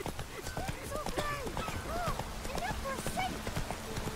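Horse hooves gallop in a steady, rapid clip-clop in the video game Witcher 3, with brief tonal calls and background sounds layered over the running beat.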